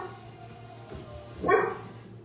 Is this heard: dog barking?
yes